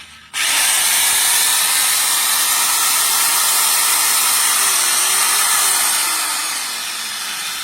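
A 7-inch RSK circular saw with a copper-wound armature whines loudly at full speed, a steady high-pitched motor drone that starts abruptly and holds without pause, easing slightly near the end.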